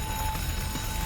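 A smoke alarm in The Hundred Line Last Defense Academy sounds a steady, high, continuous electronic tone that runs unbroken for the whole moment over a low rumbling background, with no speech.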